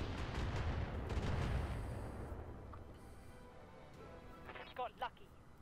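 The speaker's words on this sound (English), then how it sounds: "Missiles coming in." Incoming missiles and explosions in the Flashpoint video game: a loud rumbling blast that decays over a couple of seconds, followed by quieter background and a few sharp distant cracks near the end.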